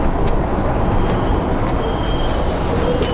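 Beijing metro train pulling out of a station, a steady loud broadband rumble and rushing roar with faint high squeals, continuous throughout.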